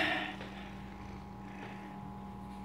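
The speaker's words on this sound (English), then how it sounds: "Loud purring, huh?" A cat purring steadily and fairly loudly up close, a continuous low rumbling drone with no talking, quiet overall.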